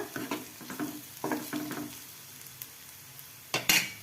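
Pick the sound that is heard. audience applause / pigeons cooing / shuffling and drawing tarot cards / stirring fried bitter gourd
stirring fried bitter gourd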